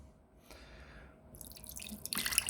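Water trickling and dripping into a glass candle jar, quiet and close, starting faint and building into a steady splashing pour by the end.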